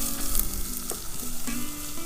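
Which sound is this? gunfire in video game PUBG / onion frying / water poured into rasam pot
onion frying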